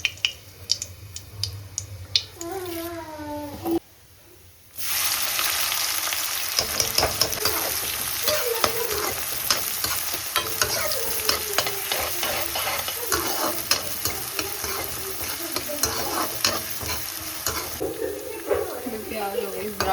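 Cumin seeds hit hot oil for aloo gobi, setting off a sudden loud crackling sizzle after a few quieter seconds with some talk, then popping and frying continue steadily.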